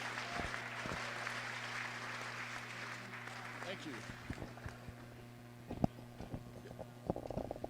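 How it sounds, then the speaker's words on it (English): Scattered clapping from an audience at an awards brunch for a hot air balloon fiesta, a steady wash of hands over room murmur with a few sharper claps near the end, moderately loud and unaccompanied by speech. "Give him a round of applause."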